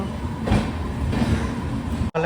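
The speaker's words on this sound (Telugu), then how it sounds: "మనకి ఇప్పుడు ఒక ట్రైన్ అయితే వచ్చింది తిరుచిరాంపల్లి టు హౌరా వెళ్ళే ట్రైన్" Tiruchirappalli–Howrah train arriving at a station platform, a loud continuous rolling rumble of passing coaches with a rhythmic clatter, cut briefly by a dropout at the end.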